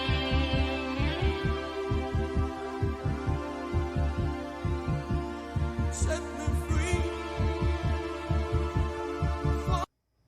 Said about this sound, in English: I'm starting to wonder now if that heartbeat isn't actually on bass.